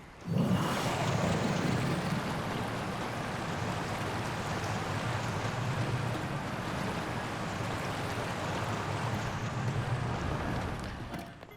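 Boat gliding down a river in the Tears of the Kingdom video game, a steady rushing wash of water and wind that holds at an even level for about ten seconds before tapering off, with no talking.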